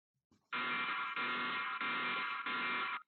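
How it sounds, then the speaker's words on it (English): A home security alarm goes off with a harsh electronic buzzing tone, repeating in four long, even pulses separated by brief dips, steady and fairly close, with no voices. "The video starts with the alarm suddenly going off"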